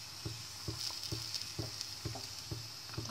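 Besan roti cooking in oil on a griddle gives a steady hiss with a regular series of soft thumps or presses about every half second, close and quiet, no one speaking.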